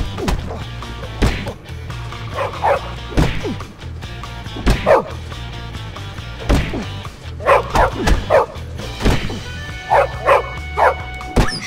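A dog barks in repeated short bursts in the Bully video game, loud and close, mixed with sharp whacking hits and thuds of a fight, with no talking.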